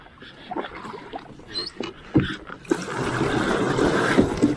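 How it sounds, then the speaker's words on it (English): A canoe paddled and turned around on open water, with soft dips and swishes of the paddle building into a steady, louder wash of water near the boat. "We're turning our canoe around."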